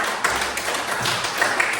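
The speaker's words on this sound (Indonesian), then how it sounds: "Oke, tepuk tangan dong" A classroom of students claps together, a dense patter of hands lasting under two seconds at moderate loudness.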